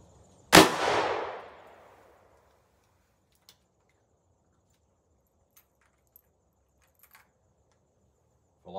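A single sharp gunshot from a Rossi RP63 .38 Special revolver with a 3-inch barrel firing a Hornady 125-grain XTP bullet into a gel block, a loud close crack with a short ringing decay, followed by near silence and faint clicks.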